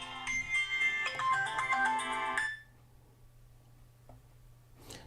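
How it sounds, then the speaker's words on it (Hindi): A mobile phone ringtone plays during an online class, a loud melodic tune that rings for about two and a half seconds and then cuts off, leaving a quiet room with a faint click near the end. "फोन बंद करना भूल गया था मैं।"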